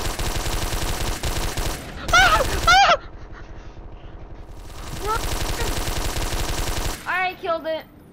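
Rapid automatic gunfire bursts in a video game, loud and close, in several long stretches separated by brief pauses, with short voiced sounds and groans cutting in between.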